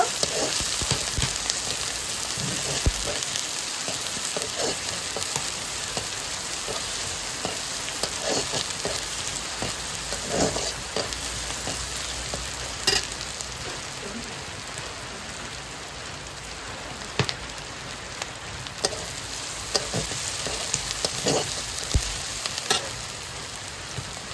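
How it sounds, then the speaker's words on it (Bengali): Chopped onion and garlic frying in oil for a chicken and cabbage curry, a steady close sizzle with scattered crackles and pops, no voices, running the whole time. "রসুনের সঙ্গে পেঁয়াজটা ভালোভাবে ভেজে নেব।"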